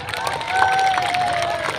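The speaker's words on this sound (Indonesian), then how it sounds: "tepuk tangan juga" A crowd at a National Santri Day ceremony claps and cheers in a brief, busy wash of sound, with a thin sustained tone running through it.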